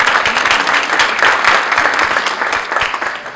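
A conference audience applauding itself at an opening session, loud, dense clapping from many hands in a room, sustained and fairly even throughout.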